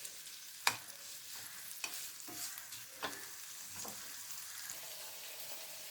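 Fresh turmeric for pickle sautéing in oil, with a low continuous sizzle broken by several sharp scraping stirs of a spoon against the pan, close by and fairly quiet with no voices.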